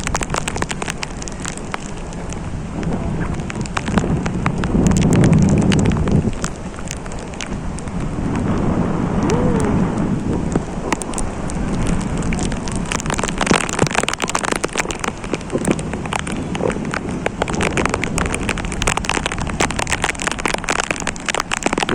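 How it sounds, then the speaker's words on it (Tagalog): Heavy tropical rain pours down at a beach in Bicol, a dense, loud, continuous hiss full of sharp drop impacts that keeps going for the whole stretch without a pause. "Yan, lakas ng ulan."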